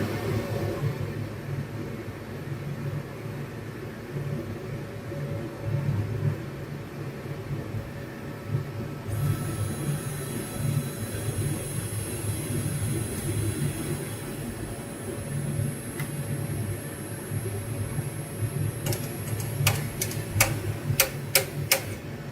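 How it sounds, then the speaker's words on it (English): Faint rhythmic mechanical whirring from a MakerBot 3D printer, with a series of sharp clicks toward the end as the filament releases, small and close, over a steady machine drone with no voices. "you can hear the filament click as it's being released"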